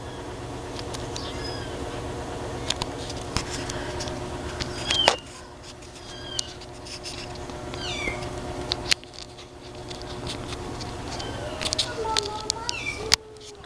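A small kitten gives repeated thin, high meows, some short and some drawn out, close by in a quiet home while people talk softly nearby.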